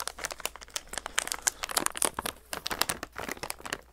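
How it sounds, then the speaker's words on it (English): A plastic snack pack crinkles and tears in close, quick bursts of crackling rustle, uneven and busy throughout, as fingers struggle to rip it open. "I cannot open it because the tear was above where it would need to be in order to actually open the pack"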